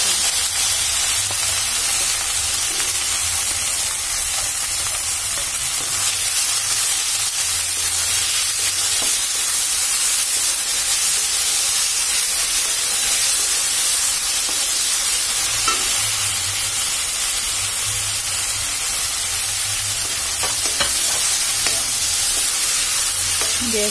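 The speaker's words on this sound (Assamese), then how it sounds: "তেল গৰম হৈ গ'ল ইয়াত দি দিলোঁ পাঁচফোৰণ" Panch phoron spices and chopped greens sizzle and crackle steadily in hot oil in a home kitchen, a continuous close frying hiss with occasional stirring clinks, no talk.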